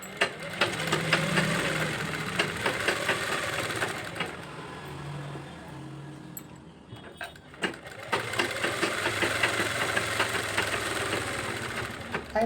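A sewing machine stitches the lining of a blouse with a close, rhythmic mechanical clatter that runs, eases into a brief quieter pause, then resumes at a similar pace.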